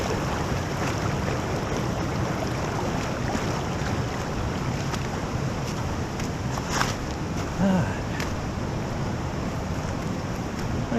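Swift creek water rushing over rocks at a hiking crossing in an Ozark canyon forest, a continuous broadband roar close to the microphone with wind buffeting, steady throughout with no one speaking.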